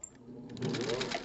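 A Singer 201 sewing machine stitching while mending, its motor starting up and running with a steady mechanical whir and rapid needle rhythm, close and moderately loud.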